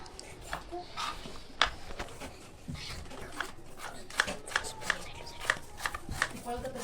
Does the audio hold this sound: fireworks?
no